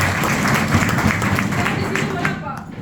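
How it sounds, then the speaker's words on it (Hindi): An audience at an AWPL talk gives a round of hearty applause, dense steady clapping that fills the room and fades toward the end, with some voices underneath. "चलो मैं अपने जोरदार ताली हो जाए।"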